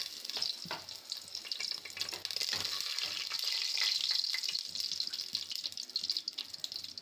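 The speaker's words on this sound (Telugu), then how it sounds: "ఇప్పుడైతే ఆయిల్ అయితే వేడయింది. దాంట్లోకైతే హోల్ గరం మసాలా అయితే వేసేస్తున్నాను" Whole garam masala spices frying in hot oil for chicken biryani, a steady close crackling sizzle with scattered pops and light stirring clatter, continuous throughout with no talking.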